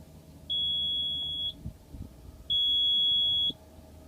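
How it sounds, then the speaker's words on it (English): A temperature controller gives two long, steady electronic beeps, each about one second, evenly spaced and clear over a quiet low hum. "It was beeping then to tell me that the set point hasn't changed."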